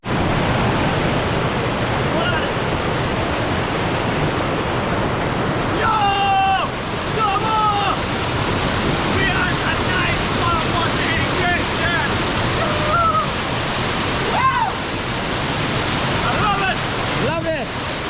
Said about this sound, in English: Got a nice waterfall up there.